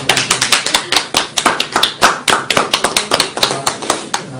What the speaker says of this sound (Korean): 박수 드리겠습니다